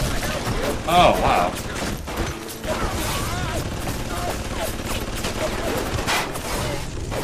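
Video-game gunfire in BioShock aimed at the player, a steady stream of rapid shots and impacts running throughout under a brief exclaimed voice.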